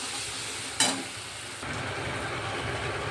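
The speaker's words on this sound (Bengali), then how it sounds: "ভালো করে আমি মশলাটাকে কষিয়ে নেব" Spice masala with slit green chilies and chopped tomato sautéing in a pan, a steady soft sizzle with a sharp clatter of stirring partway through.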